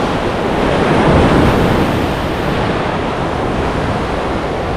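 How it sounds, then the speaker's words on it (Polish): Ocean surf surges at low tide off a Madagascar island, a loud, continuous wash of breaking waves and rushing water with wind buffeting the microphone and no voices. "Tam właśnie wszystko się przelewa, siła oceanu ogromna."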